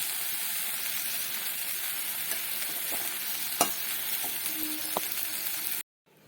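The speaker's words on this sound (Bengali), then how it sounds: "আবার বেশ কয়েক মিনিট ভালো করে ভাজবো" Drumstick (sajne) leaves stir-fry in a pan with a steady close sizzle and frying hiss, a few scraping stirs breaking through before the sound cuts off abruptly near the end.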